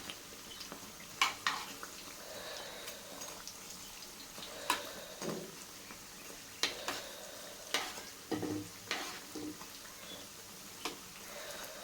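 Batter-coated stuffed chillies for bajji fry in a pan while being stirred, with a low sizzle under repeated clinks and scrapes of a utensil against metal, quiet and close.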